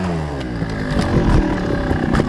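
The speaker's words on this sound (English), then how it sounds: "Now it's time to get used to the bike a little bit." Sherco trials motorcycle engine revving during indoor trials practice, a close, loud burbling exhaust that rises and falls in short throttle blips.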